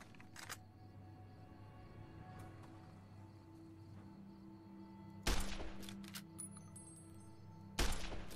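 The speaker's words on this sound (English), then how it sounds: "now I can try to kill him with the rifle" Rifle fire in the video game Fallout: New Vegas: two loud, sharp shots a few seconds apart stand out over a quiet background hum, with no voices.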